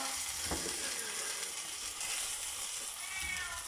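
A house cat gives a faint meow over the steady, loud sizzle of chicken drumsticks frying in a pan for poulet basquaise in a home kitchen.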